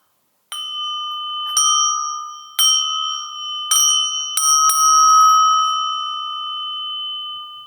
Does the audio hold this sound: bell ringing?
yes